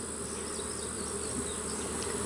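Honeybees from a healthy colony during a fall hive inspection, a steady dense buzzing hum of many insects close by, continuous and even throughout.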